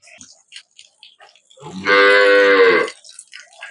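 A dairy cow on a farm gives one long, loud, close moo of about a second, with quieter voices speaking before and after it.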